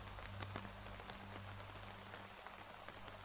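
Steady rain falls in the Terminus Zombie Survivors video game, a soft, even patter with scattered droplet taps, quiet and continuous with no one talking.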